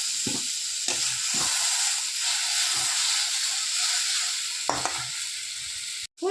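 Chopped tomatoes tipped into a frying pan of softened onions for a ridge gourd and egg stir-fry sizzle in a steady, close hiss, with a few soft stirring knocks and clinks throughout and a brief drop near the end.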